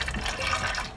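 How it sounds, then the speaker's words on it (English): Water is poured steadily into a crystal aquarium, a close, continuous splashing and trickling that lasts about a second. "I'm gonna go ahead and I'll pour it in."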